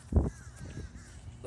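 Crows cawing from a flock of birds gathering in a tree, one loud close caw followed by fainter calls in the background, with a low rumbling noise underneath.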